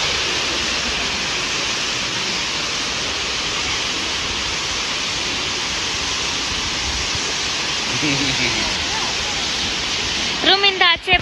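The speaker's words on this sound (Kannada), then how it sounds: "ರೂಮಿಂದ ಆಚೆ ಬಂದ್ರೆ ನಮಗೆ ಇಲ್ಲೇ ಫಾಲ್ಸ್ ಸಿಗತ್ತೆ" A waterfall beside an eco stay roars as a steady, loud broadband rush throughout, with a brief voice and clatter surfacing near the end.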